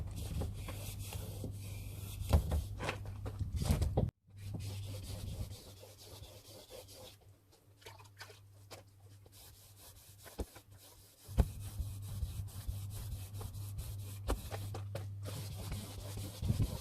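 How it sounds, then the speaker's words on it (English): Wet sandpaper rubs over hand-painted car body paint in a steady, close scrubbing rasp, repeated back-and-forth strokes with a low hum underneath and a few short pauses. "keep your sandpaper nice and wet."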